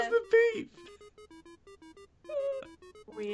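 A timer clock in Tabletop Simulator chess beeps in a quick run of short, evenly spaced electronic tones, with people talking briefly before and after.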